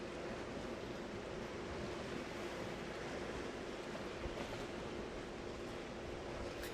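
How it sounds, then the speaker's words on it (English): Water washes steadily behind a person in a sunny outdoor spot, a continuous broadband surf-like rush with no clear individual wave breaks. "And you can hear the water behind me."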